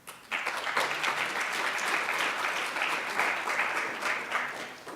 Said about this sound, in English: So give Gene a little round of applause.